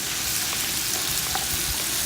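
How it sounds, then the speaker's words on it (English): Vegetables for jambalaya fry in a pot with a steady, close sizzle and occasional soft pops and crackles. "let that start frying down"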